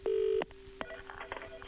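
Telephone number being dialed to an aviation company: one loud, clear keypad tone followed by several softer, quicker beeps and clicks, close up with no talk.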